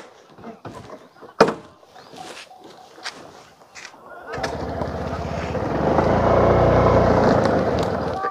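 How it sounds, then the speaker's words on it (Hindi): A car being turned around: voices and shuffling come first, then a vehicle engine starts and rumbles steadily, growing louder and holding close for the remaining seconds. "हम गाड़ी घुमाते हैं"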